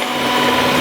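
Electric mixer whipping chocolate ganache for a Christmas log until firm, a steady, dense whirring drone held close and loud without pause.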